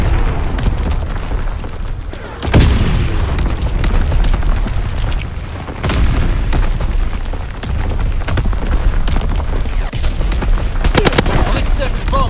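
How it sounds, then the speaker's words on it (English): Artillery shells burst in a Call of Duty WW2 team deathmatch, heavy booms landing one after another amid loud gunfire and rumbling battle noise. "Incoming enemy artillery. Get to cover."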